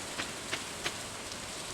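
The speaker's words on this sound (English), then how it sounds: "Rainy days are good days to go around and meet people." Steady rain falls in the farming game Stardew Valley, a soft even patter with a few slightly louder drops, heard alone and fairly quiet.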